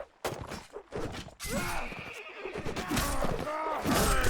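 Horses in a medieval-style multiplayer battle game, with a sharp thud and several loud, close neighs and whinnies overlapping amid clattering combat noise.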